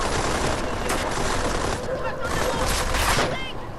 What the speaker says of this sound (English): Gunfire from the road!